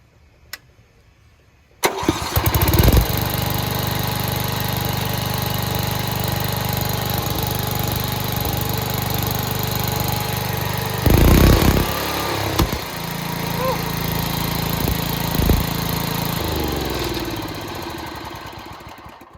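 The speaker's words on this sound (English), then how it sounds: "A little bit of a backfire there. She got some power." A riding lawn mower engine cranks and starts abruptly, then runs loud and steady near the listener with a few sharp backfire pops breaking the drone before it winds down.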